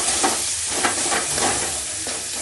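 Cream goes into a fish curry sizzling in a pan, giving a steady close frying hiss with soft pulsing stirring swishes throughout and no voices.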